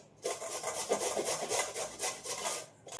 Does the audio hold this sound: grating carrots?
yes